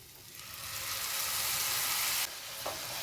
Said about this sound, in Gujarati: તો આ રીતે તમારે મસાલાની પેસ્ટ ઉમેરીને કૂક કરવાની છે।